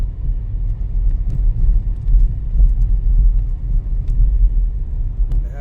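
A car drives on winter roads in the Twin Cities, Minnesota, during a storm, producing a loud steady low rumble of engine and tires heard from inside, with a few faint clicks and squeaks.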